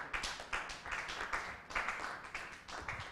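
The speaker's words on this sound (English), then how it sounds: "I think we should give Madam another round of applause." Scattered audience applause at a revenue mobilization conference in Africa, moderately quiet, with rhythmic bursts of clapping rising and falling in waves.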